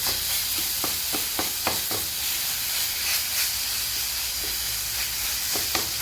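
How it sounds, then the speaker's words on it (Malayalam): Grated coconut being stirred in hot ghee with banana pieces, a steady frying hiss and sizzle alongside several sharp spoon scrapes and taps against the pan, close up and with no talking. "ഇതിലേക്ക് കുറച്ച് നാളികേരം ഇട്ട് കൊടുക്കാം. നന്നായി യോജിപ്പിച്ച്"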